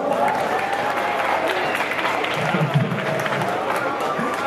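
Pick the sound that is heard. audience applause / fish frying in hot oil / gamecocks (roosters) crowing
audience applause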